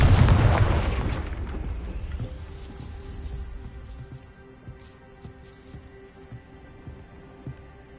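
A spell-blast explosion in the Hogwarts Legacy video game, a single loud boom at the start that rolls off into a long fading rumble with faint scattered debris sounds afterward.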